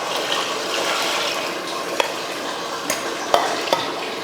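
Water is poured into a hot cooking pot of sautéed vegetables for sambar, hissing and sizzling steadily, with a few clinks of a utensil against the pot.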